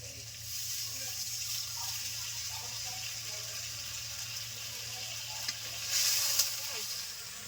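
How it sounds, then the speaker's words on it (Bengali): Water hisses into a pan of sizzling fried masala for a Bengali boal fish kosha, a steady frying crackle swelling briefly louder near the end as the liquid hits the hot spices. "একটু জল দিয়ে দেবো"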